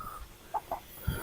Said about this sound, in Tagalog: manok panabong na magaganda